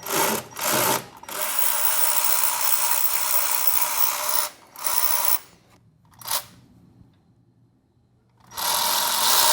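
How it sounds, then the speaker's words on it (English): An electric ratchet whirs loudly in long continuous bursts while pulling valve springs on a Barra engine in the car, stopping and restarting several times with short quiet gaps between runs. "Yes, I've gone to electric ratchet."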